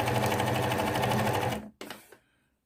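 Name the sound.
sewing machine stitching a straight topstitch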